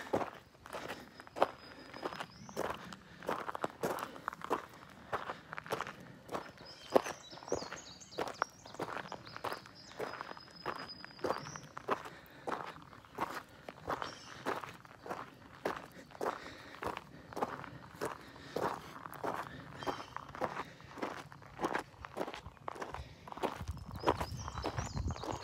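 Steady footsteps of a person walking up a steep hill outdoors, an even rhythmic series of close, soft crunching steps with faint birdsong above.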